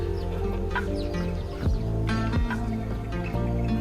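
Chickens raised on a natural-method farm clucking and calling in a busy flock, several birds nearby with overlapping clucks and sharp rising squawks.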